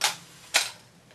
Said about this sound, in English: Let me just put it up to a higher shutter speed. See if it works.